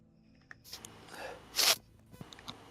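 A single sharp sneeze bursts out after a brief intake of breath, fairly close and loud against an otherwise quiet room, followed by faint rustling and small clicks.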